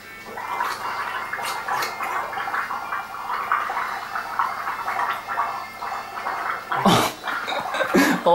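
A person gargles betadine up close: a continuous wet bubbling gurgle lasts about eight seconds, with sharper splashy bursts near the end.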